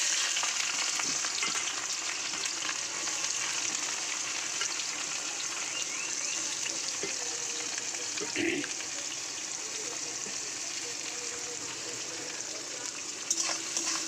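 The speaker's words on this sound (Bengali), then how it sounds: "চলো এবার তেলের মধ্যে দিয়ে দেবো কুচানো পেঁয়াজগুলো।" Chopped onions fry in hot oil with a continuous close sizzle and crackle, broken by an occasional stirring scrape and clatter.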